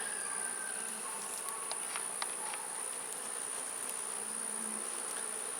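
Honeybees buzz steadily around an open hive in April, a dense, continuous hum of many wings with a few louder individual passes close by, no voices.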